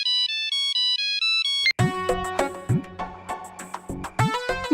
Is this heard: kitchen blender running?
no